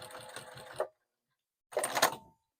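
Sewing machine stitching an oven mitt closed, a fast rhythmic mechanical whir in two short bursts separated by a pause of silence, close and moderately quiet.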